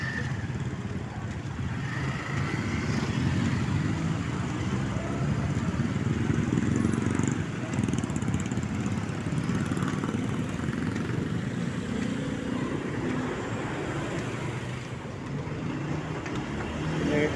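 Road traffic around the municipality of Dinalupihan, with a truck nearby, heard as a steady engine drone and passing vehicle noise close by, continuous throughout.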